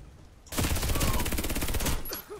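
An FN P90 fires a long rapid burst in the shooter game Warface, a loud, fast, evenly spaced stream of shots that starts abruptly and cuts off after about a second and a half.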